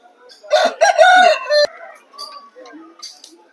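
A rooster at a Nandigama livestock market crows loudly and close by in one drawn-out call, followed by softer clucks and market murmur in the background.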